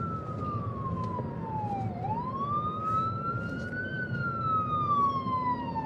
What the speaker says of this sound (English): I don't know where the ambulance gonna go because I have to move for real.